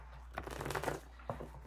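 Tarot cards being shuffled by hand in a quiet room: a short papery riffle of rapid flicks, then a soft tap as the deck settles, close and faint.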